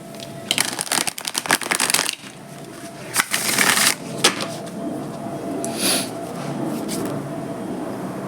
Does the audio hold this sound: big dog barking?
no